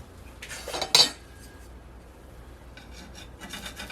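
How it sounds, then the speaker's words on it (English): A spatula scrapes under a vegan breakfast pancake in a pan and flips it, giving a short rasping scrape and one sharp metallic clink, followed by faint quiet scraping near the end. "get your spatula underneath and then flip it"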